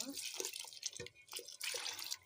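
Water is added to a pot of sprouted-gram sambar, producing soft intermittent splashes and trickles under a person talking nearby.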